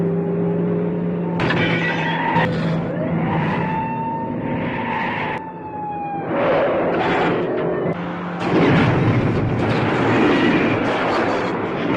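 A police car chase from the film First Blood: roaring engines, skidding tires and crashing impacts follow one another in loud bursts, with sharp bangs near the end.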